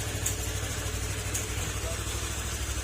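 Honda Click 125 scooter engine idling steadily after an oil-starvation fault, a continuous low rumble close by with a faint voice in the background.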